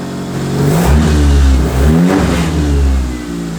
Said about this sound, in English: Oh, turbo's full. Yeah. It's actually spooling pretty hard as well.